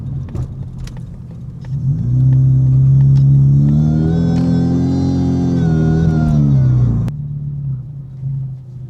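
Mazda 3 engine fitted with a DIY supercharger whine mod revs up from idle, holding a loud, steady high-rpm drone for about five seconds before dropping abruptly back to a low idle rumble.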